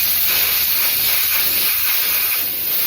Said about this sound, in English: spray, air spray.